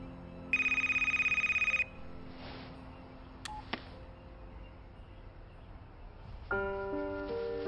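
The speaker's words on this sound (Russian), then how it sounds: "кажется, у тебя важный звонок." An incoming call on a phone: a bright electronic ringtone trills for over a second, then a short beep and quiet room tone, before a melodic ringtone pattern begins, close and clear with no talking.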